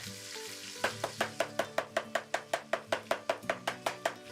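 Chicken liver being chopped with a knife on a board, with a fast, even series of about fifteen crisp, close taps that starts abruptly after a short quiet lead-in, and no talking.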